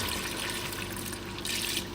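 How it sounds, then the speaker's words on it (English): Water splashes steadily into a pot of simmering oxtail, a continuous close hissing pour with a brief lull partway before the flow resumes. "I'm just gonna add a little bit more water to it."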